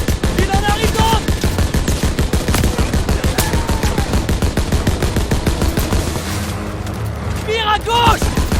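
Sustained machine-gun fire from the WWII-era Call of Duty WWII game rattles in fast, loud repeating bursts throughout, with shouted voices calling out over the shooting.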